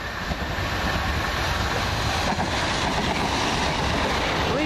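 Southern Class 377 electric train, unit 377508, runs fast on the London Victoria to Brighton line, a steady loud broadband rumble and rush of wheels and air throughout, close by with no talk.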